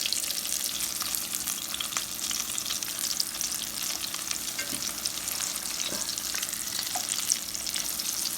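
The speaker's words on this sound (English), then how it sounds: "let them fry for another 2 to 3 minutes" Green tomato slices fry in a pan with a dense, even sizzle and crackle that holds steady throughout, close and moderately loud with no voices.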